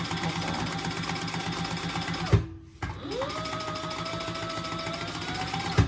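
A sewing machine stitches a boxy bag's exterior and lining together, whirring steadily, stopping briefly with a soft clunk, then starting up again and running on at an even pace.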